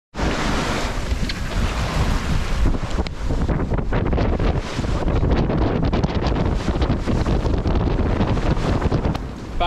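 Sailboat at sea off the UK coast on a sunny summer day, with steady loud wind buffeting the microphone and waves washing against the hull throughout, no talking.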